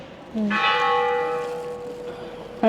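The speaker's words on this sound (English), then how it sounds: "That is an awful sound and bell, I'm sorry." A single bell struck once rings out with a bright, sustained tone that slowly fades.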